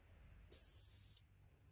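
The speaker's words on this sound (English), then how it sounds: "the one single whistle, emphasize it with the hand, means park your bum" One short, piercing blast on a dog training whistle, steady and high-pitched, sounds once in otherwise near silence.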